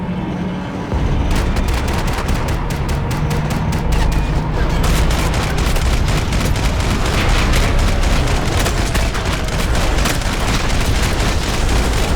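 Sustained gunfire from Max Payne 3 fills the scene, loud and nearly continuous, with dense rapid shots and booming bursts layered over a busy action soundscape.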